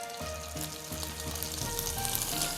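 Garlic sautés in a hot pan while rice is prepared, giving a steady close sizzle with a faint low hum underneath and no talking.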